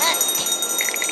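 A small bell rings in quick, bright dings over a busy background, brief and fairly close.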